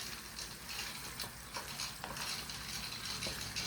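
Pork sizzles and crackles in its own rendered fat for binagoongan, with steady frying hiss and intermittent scraping stirs from a utensil, close and moderately loud.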